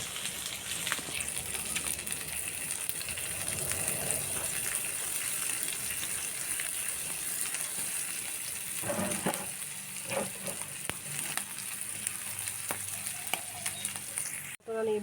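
Onions frying in oil in a pan, a loud continuous sizzle with crackling and occasional scraping stirs, steady throughout with a brief clatter at the end.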